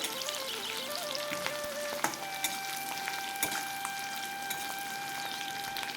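Vegetables sizzle in a small amount of oil with ginger paste, giving a steady, fairly quiet frying hiss with a few light clicks of stirring and faint tonal hums in the background, no voices.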